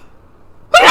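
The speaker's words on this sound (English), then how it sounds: "I am having a sneeze attack." A woman's single sharp sneeze bursts out near the end after a quiet pause, loud and close, during a bout of repeated sneezing.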